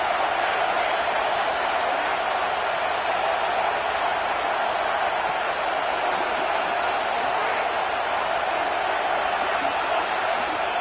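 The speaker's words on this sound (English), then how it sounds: "this crowd is at fever pitch" A college football stadium crowd on a third-down play in the red zone, a dense, loud, sustained roar of cheering and noise that holds steady throughout.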